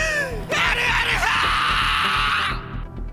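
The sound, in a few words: anime character screaming in distress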